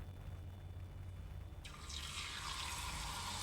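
Battered prawns and vegetables for tempura go into hot deep-frying oil. After a quiet start, a loud, steady, bright sizzle begins partway through and continues to the end, with no talking.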